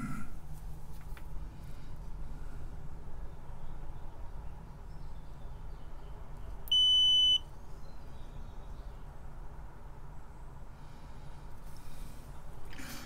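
A digital multimeter set to continuity mode gives one clear, steady electronic beep lasting about half a second, heard against a low background hum while resistors are being tested on a retro chip tester board.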